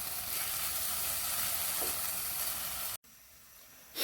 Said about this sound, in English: Just going to keep on sauteing this till it cooks down nice and soft.